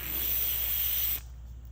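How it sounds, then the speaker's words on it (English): A steady, loud hiss of aerosol brake cleaner sprayed into a wastegate runs for about a second, then cuts off, leaving a low background hum. "I'm going to spray some brake cleaner in there."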